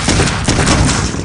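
A rapid burst of gunfire in the video game Clive Barker's Undying, loud and close with several quick overlapping shots.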